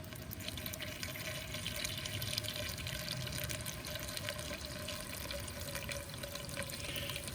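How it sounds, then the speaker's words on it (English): Fuel mixed at 25:1 is poured through a funnel into the 750 ml gas tank of a Losi DBXL 1/5-scale 2-stroke RC car, a faint continuous liquid trickle with no pauses. "we're just gonna pour that right into the gas tank."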